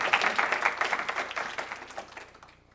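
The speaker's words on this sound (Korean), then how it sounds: "박수" A church congregation bursts into dense, lively applause during a sermon, the clapping loud and close at first, then thinning and fading away toward the end.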